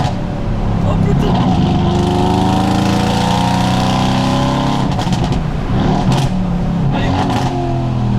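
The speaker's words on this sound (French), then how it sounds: "C'est la première fois que j'ai une voiture qui gueule autant" A Mercedes C63s AMG engine roars loudly and continuously near the listener, its pitch sweeping up and down through rising revs, with people talking over it.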